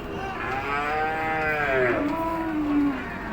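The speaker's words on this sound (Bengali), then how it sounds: "আপনাদেরকে পাঁচবিবি গরুর হাটের কিছু গরু দেখাই" Cattle at the Panchbibi cattle market moo in one long, loud, rising then falling call nearby, with a second lower bellow following, over a soft background murmur.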